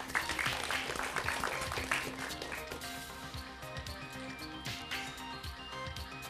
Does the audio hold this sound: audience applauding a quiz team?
yes